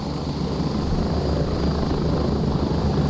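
Helicopter arriving in the video game Gray Zone Warfare, a loud, steady rotor thump and turbine whine close by, filling the moment without speech.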